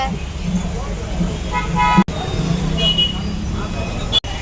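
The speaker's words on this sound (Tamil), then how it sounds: "ஒரே டிராஃபிக்கா இருக்கு" Busy road traffic with a car horn honking amid engine rumble and passing vehicles, fairly close and loud, with two sharp breaks in the sound.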